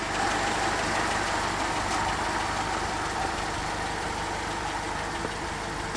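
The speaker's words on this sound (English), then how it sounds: "And we're going to bring the Jeep forward." A Jeep engine idles steadily at close range with a constant low rumble and broad noise as the vehicle creeps forward onto wheel chocks on an off-road trail, with no speech.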